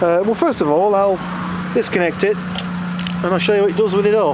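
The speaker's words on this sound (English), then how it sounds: "Sorry about the car noise." A car engine idles to drive an alternator, a steady low hum running under someone talking close by.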